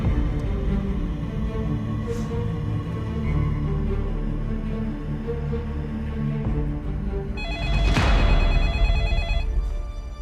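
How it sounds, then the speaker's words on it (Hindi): A telephone rings in a Pakistani TV drama scene, with repeated electronic bell-like trills running continuously over background music and growing louder and brighter toward the end. "क्या इतनी देर से फोन बज रहा, उठा क्यों नहीं रही हो तुम?"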